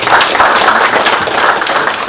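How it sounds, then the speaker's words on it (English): Steady, dense audience applause at a project launch in Kisumu County, loud and continuous throughout with no talk over it. "Let's give a strong applause to Dr."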